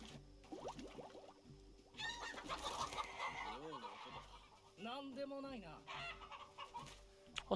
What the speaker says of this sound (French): Oh, c'est que des poules, hein, tu sais ce que c'est.